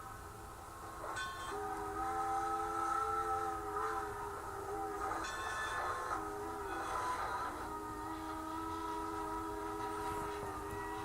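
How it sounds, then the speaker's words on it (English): A Southern PS4 steam locomotive whistle sounds in long, loud, sustained chords that shift in pitch across the run, with steady rail rumble beneath and no talking. "that was one of the few examples where that Southern PS4 whistle it uses just put on such a show"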